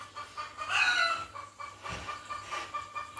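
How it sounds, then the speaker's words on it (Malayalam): A hen clucking nearby in a home setting, a short run of bright, fairly loud clucks followed by quieter repeated calls, with no talking over it. "അമ്മയുടെ കോഴി ബാക്ക്ഗ്രൗണ്ട് മ്യൂസിക് ഇടാൻ തുടങ്ങി"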